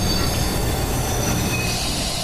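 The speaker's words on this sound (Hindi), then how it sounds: "ट्रेन स्लो होकर रुक चुकी है।" Train pulling into a station, a loud continuous rumble of rolling wagons with high wheel squeal across the whole stretch, close and steady with no voices.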